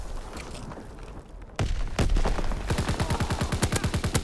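Call of Duty WW2 battle: a quiet stretch, then a sharp close shotgun blast, another heavy shot, and sustained rapid automatic gunfire hammering out in a fast even rhythm.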